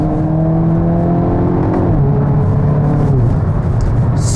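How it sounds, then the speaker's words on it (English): Turbocharged four-cylinder 2022 Hyundai Kona N downshifting, loud close exhaust with engine pitch stepping up and down through the gear changes, no talking. "Just with the flick, you can hear that exhaust all the way down to second here."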